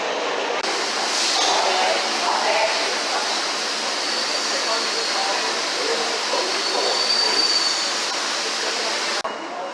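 Loud, steady rushing roar of a New York City subway train running on rails, a broad continuous noise that rises and holds for several seconds before cutting off.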